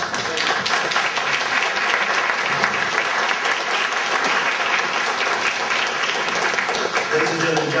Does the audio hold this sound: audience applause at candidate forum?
yes